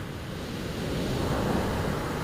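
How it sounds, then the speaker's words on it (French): Waves roll and break along the Basque coast in calm, fine weather, producing a steady broadband surf wash with some wind noise on the microphone and no voices. "déjà de belles vagues qui se forment alors que c'est beau temps"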